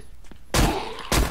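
Gunfire in the zombie game ZomPiercer, two loud, close bursts of rapid shots separated by a brief pause over low background noise.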